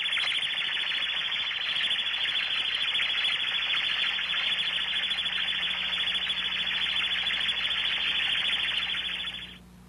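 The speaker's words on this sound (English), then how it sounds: "reduce the warble tone generator's amplitude while scanning for these differences" A warble tone generator used for ultrasonic inspection of heat exchangers, condensers and boilers gives a steady, loud, high electronic warbling tone that holds for nearly ten seconds, then cuts off abruptly.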